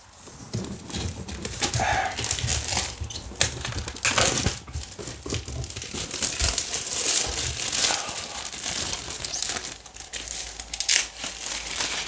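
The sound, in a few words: opening plastic-wrapped Space Hulk game box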